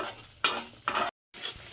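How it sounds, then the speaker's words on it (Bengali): Spice masala for butter paneer being stirred and fried in oil: a couple of loud scraping sweeps through a sizzling pan, a brief drop to silence, then the frying resumes. "এবার আমি কিন্তু মশলাটাকে খুব একদম তেল বেরোনো পর্যন্ত কষিয়ে নেব।"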